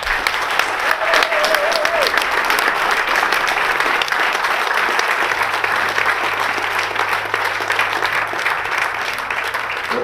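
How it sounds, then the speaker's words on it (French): A cinema audience at a European premiere in Carentan-les-Marais gives sustained, dense applause for a veteran, even and loud from start to finish. "Je vous demande un tonnerre d'applaudissements pour Jack Hamlin"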